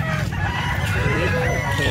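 Chickens and a rooster at a livestock market give overlapping clucks and crowing calls over a continuous low crowd rumble.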